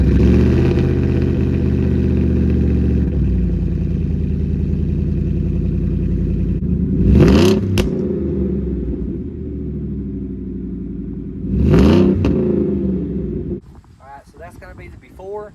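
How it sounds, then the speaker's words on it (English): Ford F-150 with factory exhaust manifolds and an MBRP side exhaust, heard from about ten feet: a loud steady idle rumble broken by two sharp revs that rise and fall, then a quick fading crackle at the end. "This is with the factory manifolds and MBRP side exhaust."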